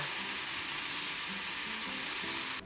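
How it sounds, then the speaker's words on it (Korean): Steady, loud sizzling of salted beef frying in a hot pan, a continuous crackling hiss with small pops, cutting off abruptly at the end. "간단하게 굽는 소금구이"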